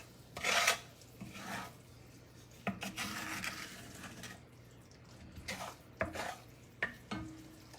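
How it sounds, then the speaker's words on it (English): A utensil stirs thickening caramel for caramel-covered nuts in a pan. Soft, intermittent scraping and rubbing strokes come and go with faint sizzling, fairly quiet and heard alone. "You do have to kind of baby it and make sure that you're stirring so that it doesn't burn."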